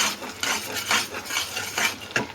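Spice masala stirred and sautéed in a pan for a Tara masala radhaballabhi, a few soft scraping strokes of a spoon against the pan over a faint low sizzle, close and quiet.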